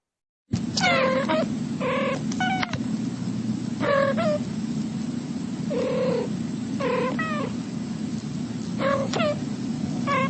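Two cats meow back and forth in alternating, repeated calls, played from a recording over a steady low background hum with no talking.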